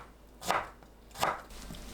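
A knife cuts through pickled radish (danmuji) on a cutting board, two crisp, separate chops spaced under a second apart, close and fairly quiet.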